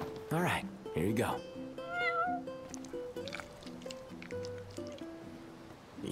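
A cat meows in the video game Final Fantasy XV, with a couple of loud, drawn-out calls near the start that fade into softer sounds over game music and light chatter.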